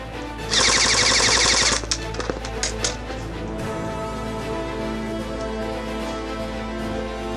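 A rapid burst of airsoft gunfire crackles for about a second, followed by a few scattered single shots against background noise.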